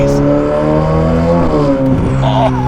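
A loud decatted Novitec Ferrari F8 N-Largo engine revs hard and raspy, pitch climbing and dipping through a couple of throttle blips, very close.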